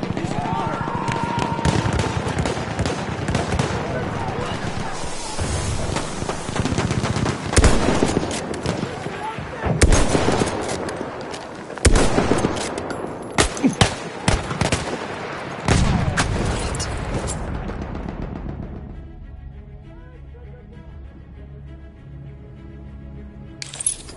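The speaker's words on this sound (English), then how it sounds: "Machine gun!" Machine gun fire and other gunshots in a Battlefield 1 multiplayer battle come in loud bursts and scattered cracks that rise and fall over time, with shouting voices during the fighting.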